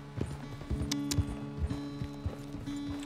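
Horse hooves clip-clop at an uneven walking pace as a horse is ridden in Red Dead Redemption 2, a series of soft close thuds with a few brighter clicks of tack mixed in.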